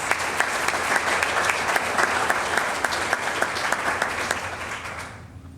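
Loud, sustained applause from an audience at a tourism awards ceremony, steady clapping throughout that gradually thins and fades at the end.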